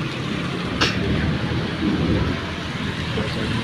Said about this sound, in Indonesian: Tapi untuk petir ini masih terus ya berlanjut.